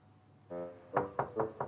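Knocking on a door: a group of four firm knocks in steady rhythm, close and clear, following a brief tonal sound at the start.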